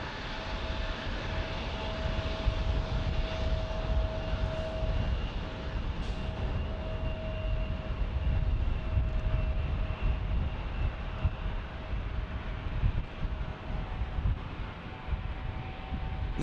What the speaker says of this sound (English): This Max 8 for Southwest going to Honolulu.